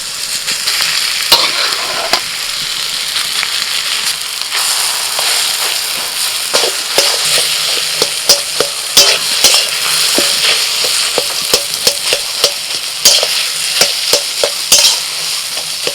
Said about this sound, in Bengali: বেশ কিছুক্ষণ ধরে আলুটা নাড়াচাড়া করে আমি পুরটা তৈরি করে নিয়েছি